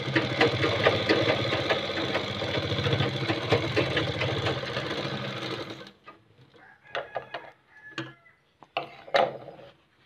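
A sewing machine stitches a kurta collar in a fast, steady mechanical chatter for about six seconds, then stops, leaving scattered clicks and short fabric and handling noises close by.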